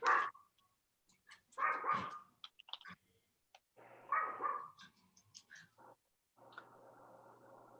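A dog barks in several short, fairly close bursts with quiet gaps between them, heard in the background of a city council meeting.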